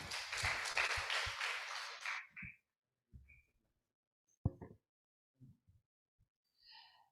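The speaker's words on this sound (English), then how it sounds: "Give applause once again to Mrs." Applause from an audience for a guest lecturer at a nursing department lecture, a dense burst of clapping for about two seconds that stops abruptly, followed by sparse small sounds and quiet.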